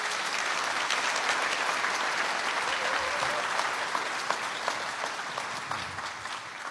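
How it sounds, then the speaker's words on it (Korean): A large audience at a Constitution Day ceremony breaks into loud sustained applause, a dense wash of clapping lasting several seconds before tapering slightly at the end. "크게 박수 한번 부탁드립니다."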